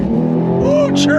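A Porsche 911 Carrera T accelerates hard on throttle, its engine note rising steadily and loud and close for about a second, with a brief tire chirp near the end.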